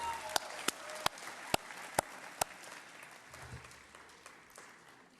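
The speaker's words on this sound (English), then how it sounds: "please give a round of applause to your families and whānaus who stood behind you in the hard journey that you've had" Audience at an NZSE graduation ceremony gives a faint, distant round of applause: a handful of sharp individual claps stand out early, then the sound thins into a soft, fading patter.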